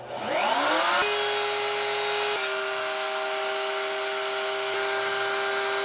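A router table cutting a trough in wood with a dull bit, spinning up and then holding a loud, steady whine for several seconds, the pitch shifting slightly as the cut changes.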